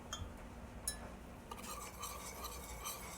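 Milk and egg mixture for a chocolate pie being stirred in a pan, a steady soft scraping and swishing of the utensil, close and fairly quiet, with no talking.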